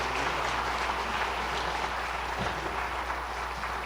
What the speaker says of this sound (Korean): 수상할 때 큰 박수로 축하해 주시기 바랍니다.